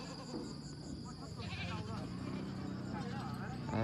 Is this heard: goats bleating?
yes